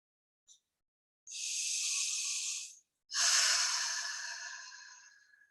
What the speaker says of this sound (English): Slowly breathe in